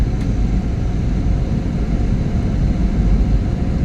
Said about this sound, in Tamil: விமானம் தரையை இறங்கிக் கொண்டு இருக்கின்றது சிறிது சிறிதாக.